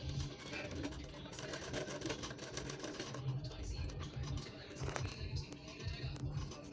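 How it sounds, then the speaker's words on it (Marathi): Sewing machine running steadily as it stitches a full round seam attaching a blouse sleeve, close and fairly loud with continuous rapid needle chatter and brief pauses in pace. "पूर्ण राऊंड शिलाई मारून घ्या."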